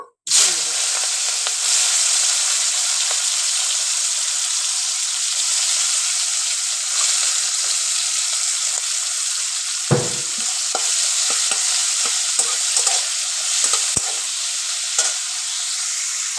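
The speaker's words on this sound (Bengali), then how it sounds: "তেল গরম হয়ে গেছে ওই তেলের মধ্যে আমি এই নুন হলুদ মেখে রাখা চিংড়ি মাছগুলোকে ভাজার জন্য" Salt-and-turmeric-coated shrimp drop into hot oil with a sudden loud hiss, then a continuous close sizzle carries on, broken by a few clinks and scrapes.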